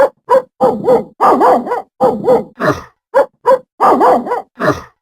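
Dogs at a protest march in Lausanne bark and yip loudly and close by, in about a dozen short, uneven bursts separated by brief pauses.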